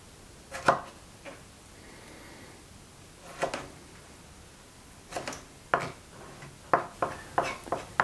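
A knife chops scooped-out tomato flesh on a board in sharp, uneven strikes, sparse at first and then a quicker run of cuts, close and clear with no talk.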